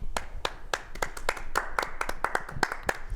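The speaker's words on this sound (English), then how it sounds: "Round of applause." A round of hand clapping, sharp claps in a quick, slightly uneven rhythm, like a small group applauding nearby for a few seconds.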